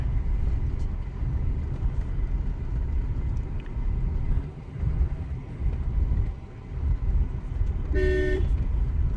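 A car horn sounds in a short burst near the end while a car drives on a highway, the steady engine and road rumble filling the background throughout.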